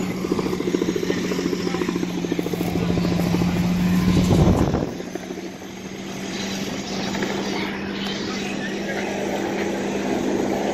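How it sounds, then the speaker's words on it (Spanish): Helicopter flying over a large fire in northeast Portland, a steady rotor and engine drone with a sustained low hum, briefly swelling louder near the middle before settling back to a constant distant roar. "Vaya el helicóptero."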